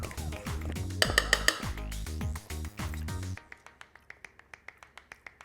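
Guacamole seasoned with chili lime spice is stirred in a bowl, giving a rapid run of light clinking taps, first over a background music track and then alone in a quick, even rhythm.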